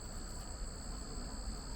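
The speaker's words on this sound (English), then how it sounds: "To your left, bunch of bees." Bees buzzing beside a rail trail, a steady high-pitched insect drone over faint outdoor rumble, close and unbroken for a moment.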